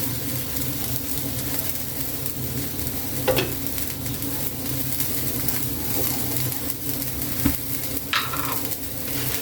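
Steady low bubbling and simmering from a pot of fish stew, with faint spoon clinks and light kitchen noise over a constant boil.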